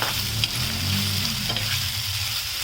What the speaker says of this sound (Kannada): ಅದಾದಮೇಲೆ ನಾನು ದಪ್ಪ ಮೆಣಸಿನಕಾಯಿ ಹಾಕ್ತಾ ಇದ್ದೀನಿ ನೋಡಿ ಹಾಕ್ಬಿಟ್ಟು ಇದನ್ನು ಚೆನ್ನಾಗಿ ಮಿಕ್ಸ್ ಮಾಡ್ಕೊಳ್ತಾ ಇದ್ದೀನಿ